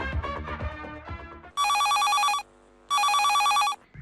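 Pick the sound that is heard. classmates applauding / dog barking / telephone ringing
telephone ringing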